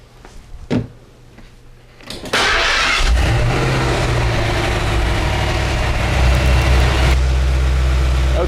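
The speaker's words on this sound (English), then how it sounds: "I'm going to start the engine up, warm it up" A Ford 5.0L OHV V8 swapped into a Fox-body Ford cranks briefly and catches, then settles into a loud, steady warm-up idle with a slight rise in revs partway through; faint clicks and handling noises come before the start.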